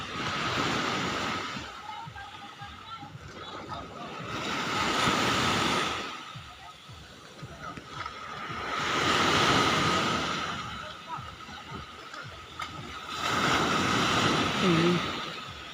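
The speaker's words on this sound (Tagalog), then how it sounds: "Ay, sobrang lakas ng alon no mga idol." Heavy ocean surf crashing in three big rolling surges a few seconds apart, with steady wind rumbling between the breaks.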